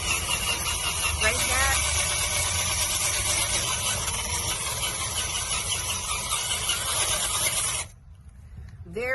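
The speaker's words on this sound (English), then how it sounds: "I gotta scuff it up to paint anyway, so let's just go on and take the wire wheel, take it off" A wire wheel scuffs paint off a vehicle's surface, a loud continuous grinding whir that holds steady for about eight seconds before stopping abruptly and winding down.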